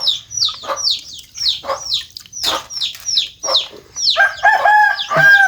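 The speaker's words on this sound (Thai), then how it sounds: "ไก่ก็ยังยอกยอกจอกจอกอยู่" A rural Thai yard fills with repeated loud chicken clucks and short squawks in an uneven rhythm, close by, ending in a rooster's drawn-out crow over the flock.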